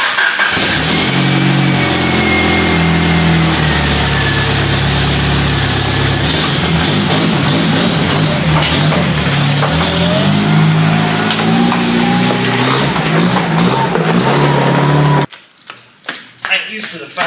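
Trail rig engines rev loudly inside a shop while the rigs are driven out, a sustained mid-pitched roar with rising and falling revs for about fifteen seconds, then cutting off abruptly to a few faint knocks.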